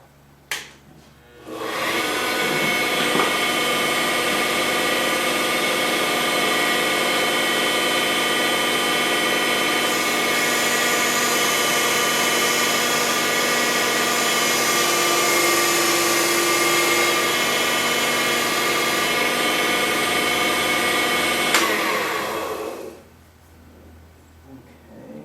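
A woodturning lathe spins as a tool shapes and defines a bead on a chrome stylus blank, producing a loud, continuous whirring drone for about twenty seconds that starts and stops abruptly.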